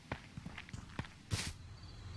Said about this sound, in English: Heard footsteps outside.